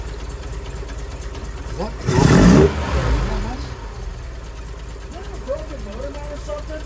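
BMW 2002 engine with a Weber individual throttle body setup and poor tuning cranks and catches with a loud burst, then settles into a rough, uneven idle. Voices speak briefly over it.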